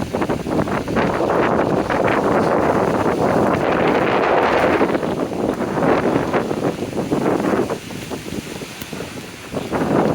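Strong wind roars and buffets the microphone continuously, a loud rushing gust that eases slightly toward the end.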